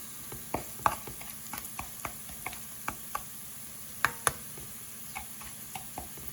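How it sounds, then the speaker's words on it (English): Cumin seeds sizzle in hot oil for eggplant bhartha, a steady soft fry dotted with sharp, irregular pops and crackles close by, with no voices. "You can see the cumin seeds are sizzling now."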